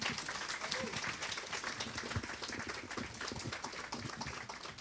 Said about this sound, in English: Just a round of applause for all our panelists again.